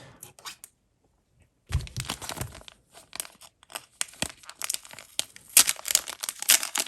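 Resealable plastic packaging of Ultraman medals is opened by hand, with crinkling, rustling and crackling bursts after a brief quiet start, growing busier and louder toward the end.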